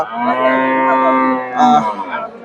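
A Friesian dairy cow at the Chandaikona cattle market in Bangladesh lets out a long, loud, close moo that swells and then trails off into a shorter second call.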